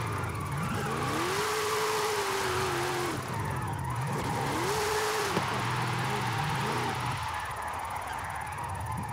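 Car engine in Forza Horizon 5 driven in second or third gear, steady revving under a constant drone, with rising and falling pitch sweeps as the throttle opens and gear shifts come through.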